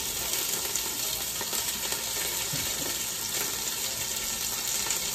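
Hot oil spattering and sizzling steadily in a pan of frying tuna and kale, a dense close crackle holding an even level throughout with no voices.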